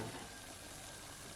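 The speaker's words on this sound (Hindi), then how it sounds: "बॉयल आ चुका है।" Water boiling in a cooking pot over a flame, a steady close hiss and bubbling roll that holds evenly throughout, with no talk.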